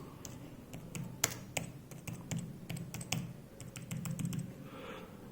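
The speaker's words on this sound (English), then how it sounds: "So what you will do is I'm just typing some text." Text being typed for a reply email on an iPad keyboard: a run of quick, light, irregular key taps, close and fairly quiet, with a low background hum and no talking.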